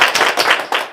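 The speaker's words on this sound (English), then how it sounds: "We sing our song of south and we clap our hands." Close, loud hand claps in a quick uneven run during a ritual song honoring the south and fire, a few sharp strikes alone without voices.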